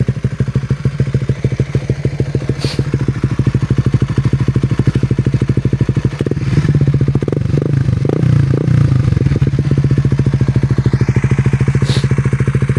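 Raider 150 Fi motorcycle idling with a vhenworkz power pipe exhaust, a close, loud, steady rapid-pulsing putter that briefly rises in a few throttle blips before settling back to idle.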